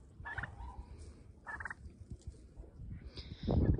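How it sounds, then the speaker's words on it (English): A turkey gobbles in short bursts at a small farm with chicken keepers, several rattling calls spaced apart, moderately close, over low rustling and outdoor background noise. "Maybe the turkey wants to say hello."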